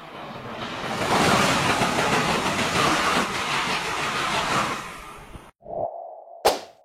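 A TGV high-speed train rushing past, a loud broad whoosh and rumble building over about five seconds and then cutting off abruptly, followed by a couple of short tonal blips.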